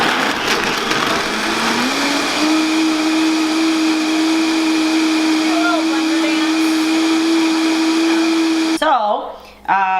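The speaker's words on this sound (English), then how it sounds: "And a blender, okay? Put it on, turn it on," A blender making almond milk whirs loudly with a steady motor whine that climbs in pitch and holds, then cuts off abruptly near the end.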